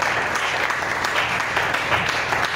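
Congregation applauding during a church service, a dense continuous wash of clapping held at an even level throughout.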